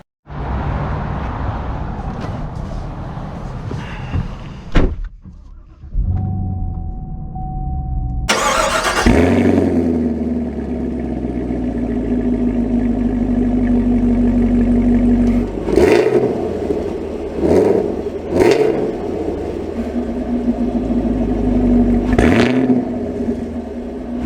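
A 2022 Chevrolet Camaro 2SS cranks and fires up, its V8 settling into a steady idle that gets several loud revs before the car pulls away, with the engine rumbling close throughout.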